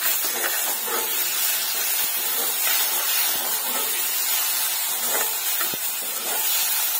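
Moong dal with onion, ginger, garlic, salt and turmeric sizzling in hot oil in a pan, a steady bright hiss with faint crackles and no talking.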